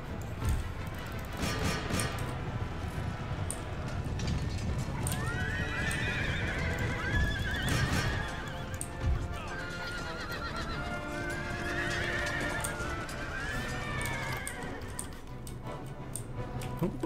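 Horses whinny repeatedly over a dense rumble of many hooves clattering, with scattered clicks and battle noise, a continuous charging din of cavalry in Empire: Total War.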